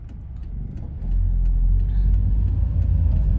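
Steady low road rumble and engine drone inside a car driving to work in traffic, swelling a little louder after the first second and continuing with no talk.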